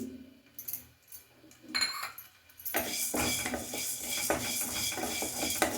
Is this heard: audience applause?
no